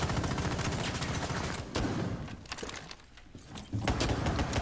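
Shotgun blasts and gunfire in a tactical team shooter, loud and dense throughout with a brief lull partway, sharp bursts cutting through steady game noise.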